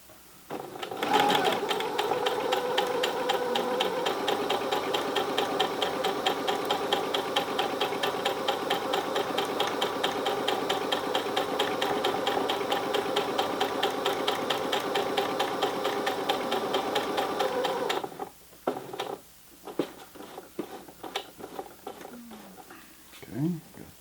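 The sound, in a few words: sewing machine stitching a hot pad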